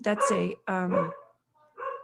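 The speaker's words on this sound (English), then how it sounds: "oh, sorry about the dog" A dog barks two or three times close by during a conversation, the sharp yaps mixed with a person talking.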